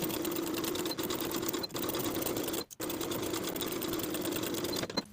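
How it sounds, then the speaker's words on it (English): A sewing machine stitches steadily through all layers of a midi dress seam at the midriff and bodice, a close, continuous mechanical whir with two brief pauses. "Sew through all layers with a 5/8 inch seam allowance."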